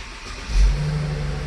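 A car engine, started with a valet smart key held in the key slot, catches with a brief cranking surge and then settles into a steady, close idle.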